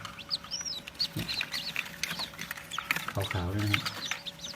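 Golden Taphao chicks and white Leghorn chicks peep in short, high, repeated chirps close by, while someone talks over them throughout.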